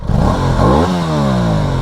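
An Aprilia Tuono motorcycle engine revs loudly up close, its pitch rising and falling in a strong, continuous roar.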